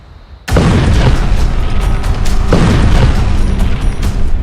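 A heavy aerial bomb, close to 1000 kg and dropped from aircraft, detonates with a sudden loud boom, followed by a sustained rumbling roar and a second surge of blast noise.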